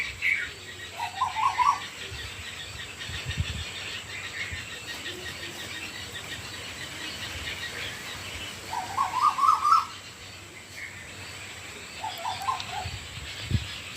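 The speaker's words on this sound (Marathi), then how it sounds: "इकडं कोकिळ कू कू सुरू आहे" An Asian koel calls from a distance in short repeated bursts at dusk, separated by long pauses, over a faint continuous hum of insects.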